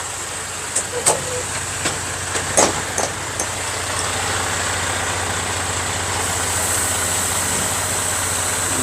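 A truck engine hauling coffee beans: a few clunks and knocks, then a steady, fairly loud low idle rumble that continues evenly to the end.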